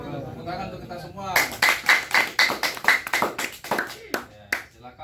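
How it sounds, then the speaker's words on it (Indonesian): A group of participants at a farmers' cooperative training session in Cijujung village, Indonesia, claps together in a burst of close, sharp, fairly rhythmic hand claps that starts suddenly after a murmur of talk and then tapers off. "Tepuk tangan untuk kita semua."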